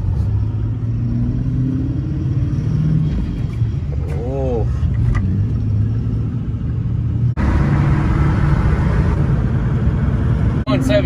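A Duramax pickup hauling a heavy 17,000-pound load climbs an uphill highway at speed, its engine and road noise forming a steady low rumble throughout, with people talking over it inside the cab.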